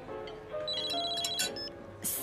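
A mobile phone rings with a short melodic electronic ringtone, a mother calling, with bright chiming tones stepping quickly at moderate volume.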